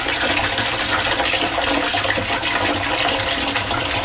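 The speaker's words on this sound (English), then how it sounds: "right now you see the water overflow to this drain and down to barrel number 2 right there." Water spilling over into a drain and running down toward the second barrel of a homemade water filter, a steady, loud, continuous rushing and splashing with no talk.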